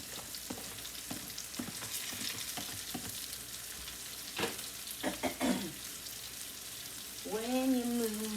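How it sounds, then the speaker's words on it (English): Garlic fries in a hot pan with a steady crackling sizzle, broken by occasional stirring scrapes and clinks, and a person hums briefly near the end. "Alright, let's put the garlic in."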